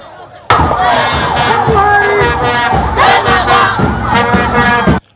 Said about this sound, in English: Major streets were again taken over by the jubilant crowds of well-wishers chanting songs of praise and goodwill